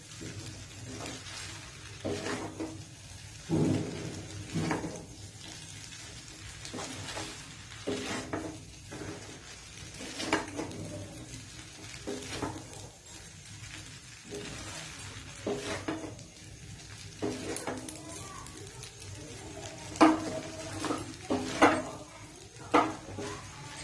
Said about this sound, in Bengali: এখন আর 2 মিনিটের জন্য আমি এটাকে নাড়বো।